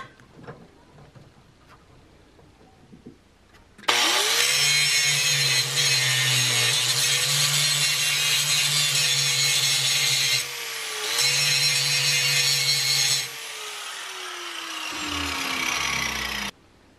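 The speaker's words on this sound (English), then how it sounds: "it was a struggle cutting through metal this thick with a jigsaw" A jigsaw struggles through thick metal while cutting out a shield piece, a loud close buzzing rasp that runs steadily for several seconds, pauses briefly, resumes, then winds down, with no talking.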